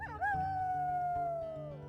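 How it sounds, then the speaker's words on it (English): A wolf in the WolfQuest video game gives one long, steady howl that slowly falls in pitch at the end. It is loud and close, and no one talks over it. "Okay, so howl."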